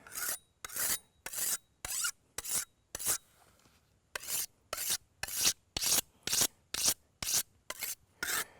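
A steel blade rasps back and forth across a coarse stone in rhythmic strokes. There is a brief pause midway, then the steady scraping resumes, close and clear.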